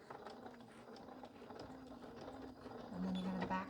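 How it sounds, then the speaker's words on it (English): Sewing machine stitching up a quilt binding seam, a steady mechanical whir and needle clatter running throughout at moderate level, growing slightly louder toward the end, with no talking. "You're going to twist and you're going to sew up that seam"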